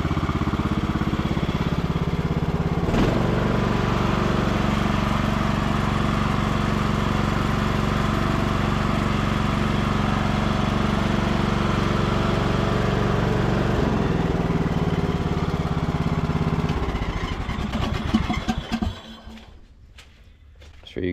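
A Bolens riding mower engine runs loud and steady close by for most of the stretch, a continuous droning roar that drops off and sputters out near the end, with speech buried under it.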